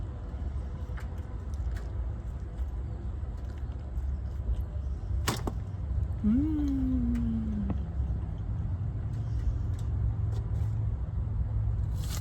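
A car is being driven, with a steady low engine and road rumble throughout. A single sharp click and a brief tonal whine cut in midway, and no one talks.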